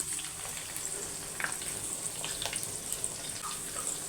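Steady sizzling of semolina roasting in a pan, a continuous crackle with occasional soft scraping stirs, no voices.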